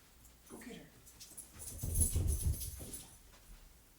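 A dog nearby gives soft, brief whimpering whines, a few quiet cries rising and falling over a few seconds in a quiet room.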